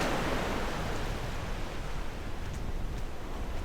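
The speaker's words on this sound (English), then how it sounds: "The waves, listening to nature." Steady broadband wash of surf, constant and enveloping, with no voices; waves rumble evenly throughout.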